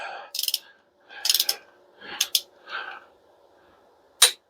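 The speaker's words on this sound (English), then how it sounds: "Torque specs on small block Chevy cylinder heads are 65 pounds, but in increments. So we're going to go 45 first." A torque wrench clicks and ratchets through several short bursts while tightening cylinder head bolts on a small block Chevy engine to 45 foot-pounds, with a sharp final click at the end and quiet gaps between pulls.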